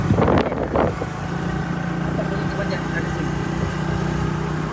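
A motorcycle engine idles and runs with a steady low drone while a family of riders sits aboard, with a brief burst of voices and clatter at the start before the engine carries on alone.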